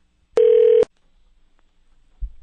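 A telephone dialing tone sounds once as a call is placed, a single loud steady beep lasting about half a second, followed by near silence and a faint thump at the end.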